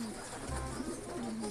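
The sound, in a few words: pet birds (pigeons) cooing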